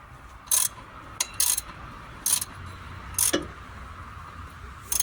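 A cam belt is tightened on an Opel Corsa engine with a ratcheting tool, giving sharp bursts of metallic clicking in short, irregular runs separated by quiet pauses, close up.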